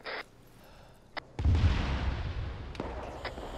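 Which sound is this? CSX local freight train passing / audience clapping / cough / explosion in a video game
explosion in a video game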